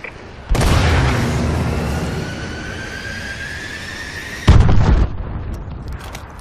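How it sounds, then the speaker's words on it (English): Friendly missile strikes exploding in a video game, with a loud close boom that rumbles and trails off over several seconds, then a second heavy blast hitting before fading into debris noise. "Friendly missile strikes inbound."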